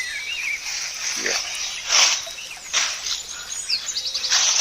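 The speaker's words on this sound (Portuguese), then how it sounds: "Aí, ó, sabiá tudo cantando." Rufous-bellied thrushes (sabiá) sing at a rural smallholding, with bright chirps and warbled phrases in scattered bursts at moderate distance, while a person talks at times.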